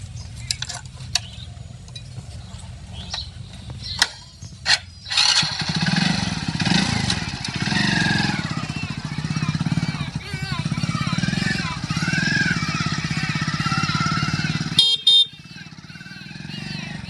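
Motorcycle engine idling and revving close by, a rough low throb with sputters that steadies into a sustained drone before cutting off near the end, with brief horn-like tones and voices over it.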